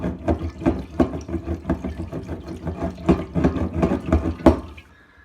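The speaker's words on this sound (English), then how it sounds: "I will shake the jars in a moment" Glass jars of homemade amber alcohol are shaken by hand, with liquid sloshing in repeated rhythmic bursts close up for about five seconds before stopping.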